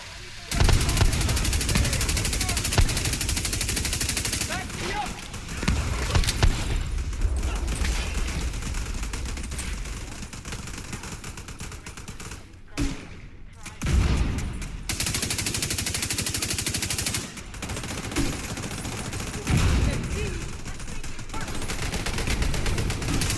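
Gunfire in The Division 2 video game: dense, loud sustained bursts of shooting with brief pauses and a short lull in the middle, with a voice talking at times.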